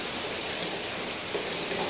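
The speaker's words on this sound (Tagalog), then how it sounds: "ang lakas ng ulan" Dense, steady downpour hisses continuously, a heavy rain drumming on surfaces with no pauses.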